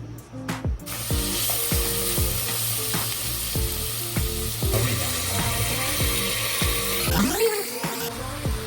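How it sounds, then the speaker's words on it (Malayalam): Onions frying in ghee in a pot while making ghee rice: a steady, close sizzle runs throughout, broken by regular clicking, scraping knocks, with no one talking. "ഉള്ളി തളിച്ചെടുക്കാൻ പോകണേ"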